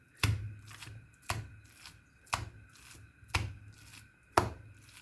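Minced veal is beaten by hand, giving five evenly spaced, dull slaps about a second apart. The sounds are close and fairly quiet, with soft rustling between the strikes.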